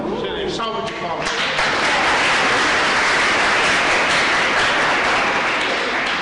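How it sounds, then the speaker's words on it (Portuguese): Dense applause fills the room after a short burst of voice at the start, a steady broadband wash of many hands clapping that holds loudly for several seconds. "Salve de palmas."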